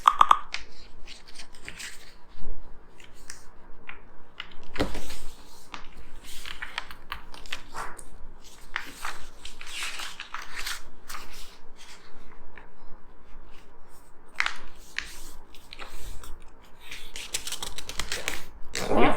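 Sheets of paper being folded in half and creased for a pumpkin folding-surprise drawing craft, giving repeated crisp rustles and crackles, close up, at a fairly steady level throughout.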